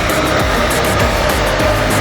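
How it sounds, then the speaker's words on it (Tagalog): A dust collector motor drones continuously at close range, a steady broadband roar with a low rumbling layer and no speech. "Dust collector siya."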